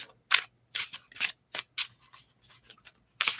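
Playing cards being shuffled in a quiet room, heard as short crisp riffling bursts separated by silences, close and fairly soft.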